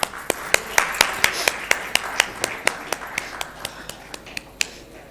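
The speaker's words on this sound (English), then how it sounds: "So please give them huge applause." Applause for a conference lamp lighting, heard as sparse, sharp individual claps in a steady rhythm at close range, with no voices over them.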